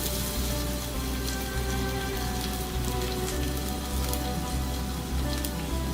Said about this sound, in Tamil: பூண்டு நல்லா வதக்கிக்கலாம்